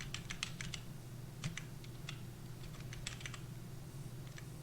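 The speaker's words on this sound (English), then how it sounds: "now I can just start typing in random numbers" Quick, uneven keystrokes tap out numbers on a computer keyboard while data is entered into an Excel table, light clicks in short bursts and pauses over a steady low hum, close and alone without speech.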